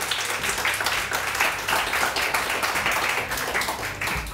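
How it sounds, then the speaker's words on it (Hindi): Studio audience applause, dense continuous clapping sustained for several seconds at moderate volume, with faint crowd voices underneath. "तालियां।"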